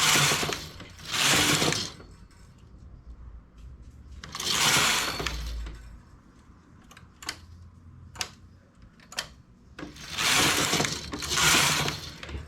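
A knitting machine works a knitted cord. Its carriage slides across in loud rasping sweeps that recur every few seconds, with sharp mechanical clicks and clacks close by in the pauses.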